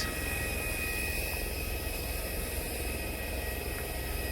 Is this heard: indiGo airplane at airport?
yes